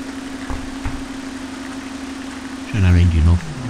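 An Irisbus GX127 bus engine idles in the OMSI 2 bus simulator game, a steady low hum broken near the end by a brief, louder, deeper rumble.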